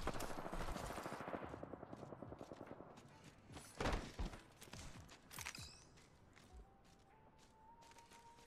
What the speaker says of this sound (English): I hear gunfire though